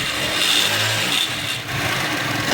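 A 70cc motorcycle engine revs as the accelerator is opened, a steady loud close-up engine drone with slight rises in pitch throughout, no talking.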